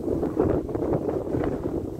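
Gusty wind buffets the microphone on a frozen lake during winter ice fishing, a steady low rumbling roar with no speech.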